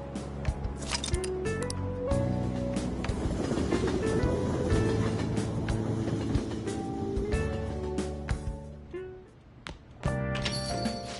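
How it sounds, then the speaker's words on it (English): Train pulling into a station in Persona 5, a steady rumbling roll with clattering wheel and rail clicks and braking tones, fairly loud and near, easing off toward the end before resuming. "The train will be arriving."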